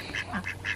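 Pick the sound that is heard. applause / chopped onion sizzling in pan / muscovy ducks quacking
muscovy ducks quacking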